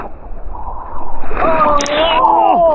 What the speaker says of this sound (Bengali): একটা বড় ঢেউ আসছে।